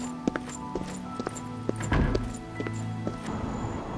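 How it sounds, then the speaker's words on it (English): Footsteps in the video game Oblivion with a sound overhaul mod: a steady series of crisp, clopping footfalls over a low ambient hum, fairly quiet, with no talking. "and footsteps more immersive."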